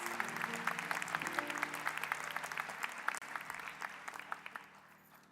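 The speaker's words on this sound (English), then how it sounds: "Please give them all a large round of applause." Sustained applause from a graduation hooding ceremony audience at Butler University's pharmacy and health sciences college, steady dense clapping heard from a distance in a large hall, tapering slightly toward the end.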